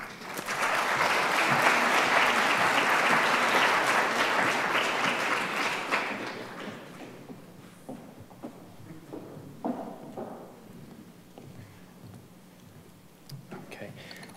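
Audience clapping at a stem cell conference welcomes Dr. Gilbert Sambrano, a full, steady burst of applause for about six seconds that dies away into scattered claps and room noise.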